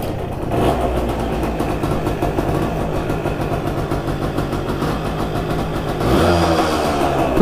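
An abandoned Suzuki RV90 motorcycle, sitting for years, runs and warms up with a steady close engine putter and a fuller rev near the end.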